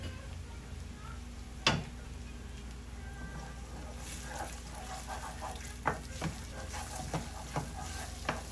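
Egg and rice fry together in a pan for plain egg fried rice, a quiet low sizzle with one sharp knock and a run of soft, spaced stirring clicks.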